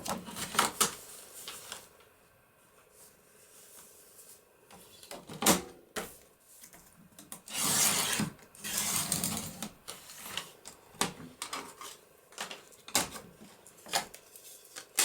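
A paper trimmer cuts sheets down to size for a papercraft folio, giving a series of sharp swishing slices and short clicks, some bursts longer, spaced irregularly and heard close with no talking.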